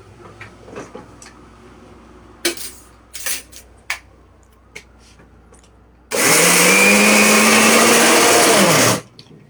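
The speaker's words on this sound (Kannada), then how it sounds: "ಇವಾಗ ಇದನ್ನು ಗ್ರೈಂಡ್ ಮಾಡ್ಕೊಳ್ಳೋಣ, ಫೈನ್ ಪೇಸ್ಟ್ ಮಾಡೋಣ" Mixer grinder blending ingredients with milk into a fine paste: a few light knocks and clinks, then a loud, steady motor roar for about three seconds that cuts off abruptly.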